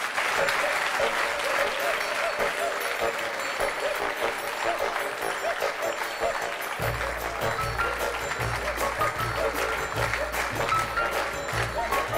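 Loud, continuous applause from an audience at a dog parade, steady dense clapping throughout, with a low rhythmic music beat joining partway through.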